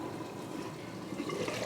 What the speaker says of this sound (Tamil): நல்லா கொதிச்சு வெந்துட்டுருக்கு.